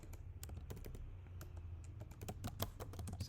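Rapid clicking of keys on a computer keyboard while sentences are typed into a code editor during JavaScript programming, a close, steady stream of irregular taps with no voice.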